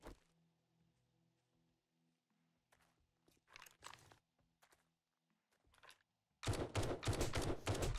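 Tactical rifle fire in the video game 7 Days to Die, with scattered footsteps and short shots early on, then a loud continuous burst of rapid gunfire over the final seconds.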